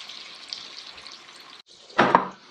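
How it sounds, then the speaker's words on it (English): Lamb browning in a pan with carrots on a camp stove gives a soft, steady sizzle that drops out briefly, then a short louder burst of hissing and spatter near the end. "I want the lamb to brown on the side I just turned it to"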